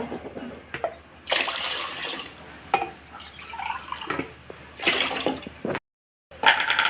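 Water is poured into washed moong dal, about two and a half glasses, for Rayalaseema pulagam. Splashing pours come in several bursts with gurgling and dripping between them, close and fairly loud, with a short silent gap near the end.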